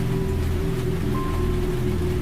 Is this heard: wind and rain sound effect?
yes